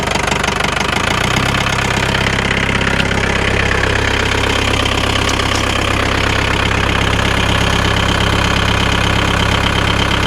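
A diesel-swapped Porsche 911 engine runs steadily at about 1500 RPM, a loud, close, knocking diesel idle with a constant low throb that holds evenly throughout, no voices present.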